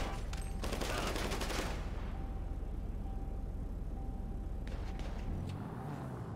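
A rapid burst of gunfire in GTA V Online crackles densely at the start and fades by the second mark, followed by a lull with a faint tone and a few later scattered shots, with no talking.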